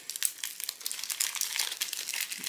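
Plastic packets from an AliExpress order are handled close up, giving dense crisp crinkling and rustling with scattered sharper crackles, with no talk.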